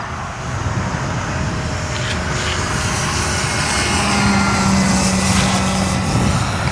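An RC model warbird airplane flies overhead at a club field, its engine making a loud, continuous propeller drone that rises slightly as it passes; no talking.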